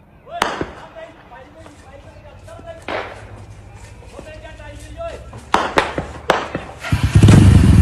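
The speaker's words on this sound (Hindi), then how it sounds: "गोलियों की तड़तड़ाहट साफ तौर पर इन तस्वीरों में सुनाई दे रही है" Gunfire during an army search operation against militants in Kathua, Jammu and Kashmir: a few sharp, loud cracks spaced irregularly over several seconds, with voices talking in the background between shots.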